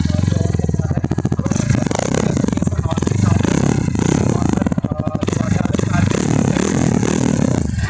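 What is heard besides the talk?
motorcycle exhaust idling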